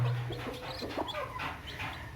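A mother black chicken clucks with soft chirps from her chicks, a busy cluster of short calls close by over a low outdoor hum.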